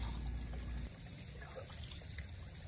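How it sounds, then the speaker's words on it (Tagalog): Water trickles and pours steadily into a sprayer tank in a rice paddy, a continuous close splashing stream with a heavier low rumble at the very start. "So lagyan lang ng tubig mga kabady. So punuin lang yan mga kabady"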